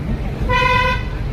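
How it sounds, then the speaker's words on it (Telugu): One car horn sounds a single clear honk of about half a second during a driving lesson, close and loud over the low rumble of the engine and road. "హారన్ చేయండి,"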